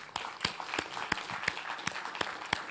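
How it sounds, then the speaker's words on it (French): A few people at an HR conference clap in a sparse, irregular rhythm, with distinct separate claps rather than full applause. The clapping is faint and sounds fairly distant. "Je vous demande de l'applaudir chaleureusement"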